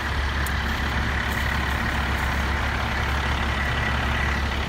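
Fire trucks and a water tanker idling at a structure fire, a steady low diesel rumble with a constant hum, occasional faint higher clanks above it, no talk.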